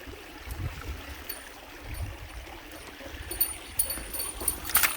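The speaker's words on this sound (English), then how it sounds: "charming little creek here." A small creek along the Asa Durst Trail in Garrett County flows with a soft, steady trickle and burble, fairly faint, along with a few light knocks and rustles nearby.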